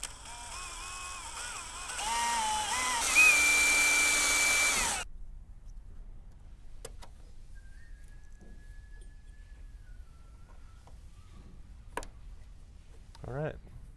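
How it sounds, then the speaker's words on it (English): A power drill with a step bit whines for about five seconds, its pitch climbing as it bites through metal on a Mercedes Sprinter front bumper, then cuts off, leaving faint clicks and small noises. "We're going to drill a hole with this step bit"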